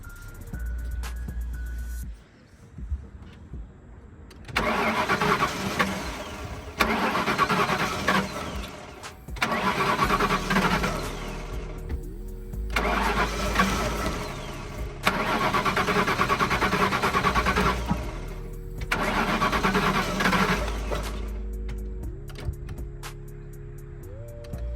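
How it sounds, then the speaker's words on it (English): A Ford Grand Marquis engine cranks repeatedly without catching, five long bursts of the starter's whirring grind separated by short pauses, loud and close, with a chime tone sounding between attempts. "I'm gonna see if that will cause the car to crank."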